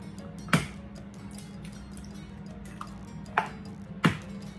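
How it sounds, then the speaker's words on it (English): Four eggs cracked into a bowl for pork neck bone dressing: a few sharp, separate cracking taps spaced seconds apart over a quiet kitchen background hum. "We'll go ahead and crack our 4 eggs"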